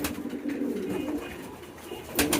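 Pigeons on a pigeon farm coo softly and repeatedly, their low throaty calls overlapping against faint background noise, with a sharper flutter or rustle near the end.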